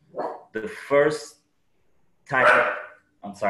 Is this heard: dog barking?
yes